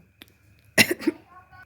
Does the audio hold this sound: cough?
yes